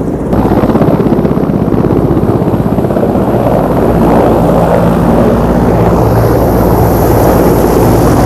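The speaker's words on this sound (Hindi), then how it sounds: "तो ये वाला जो है ये इंडियन आर्मी का हेलीकॉप्टर है" An Indian Army helicopter drones steadily near Kedarnath with a low, pulsing rotor thump, loud and continuous throughout with no voices.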